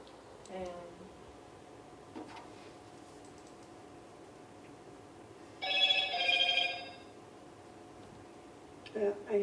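A phone rings once with a short trilling burst partway through, moderately loud in a quiet meeting room, with brief bits of talk before and after.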